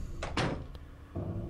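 A door opens in the video game Silent Hill 2: two quick loud bursts followed by a faint click, then a low ambient hum returns.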